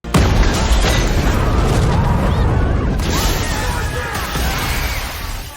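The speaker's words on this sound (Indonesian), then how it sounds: "tiba-tiba mobil yang akan mereka naiki itu meledak" A loud explosive boom as a car blows up at a hotel bursts at the start, followed by sustained rumbling, crackling debris and roaring noise, with voices faintly underneath.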